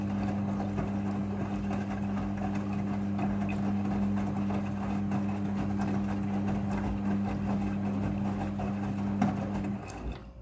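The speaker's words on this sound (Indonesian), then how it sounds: "Pada proses pembilasan dengan air, mesin cuci akan mengatur jumlah kebutuhan air secara otomatis." Midea front-loading washing machine running a water rinse cycle, a steady low motor hum with a constant tonal drone and faint rhythmic churning, continuous and fairly quiet throughout with no talking.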